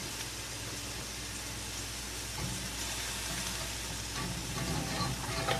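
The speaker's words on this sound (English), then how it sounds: "So hitting it with the whisk, just moving it around, helps promote that little bit of butter that's left melting" A whisk stirs the last bits of butter melting in a hot pan, with a steady sizzle and soft scraping that builds slightly louder toward the end.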